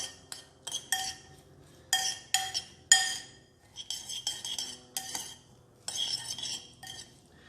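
A metal spoon clinks and scrapes against a bowl as salted cucumber pieces are mixed, in irregular bursts of taps and rattles with brief quiet gaps, close and fairly soft.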